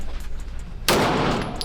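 A single loud, close gunshot cracks out at a gun range after a quiet stretch of low background hum, its blast trailing into a sustained roar that fades slowly.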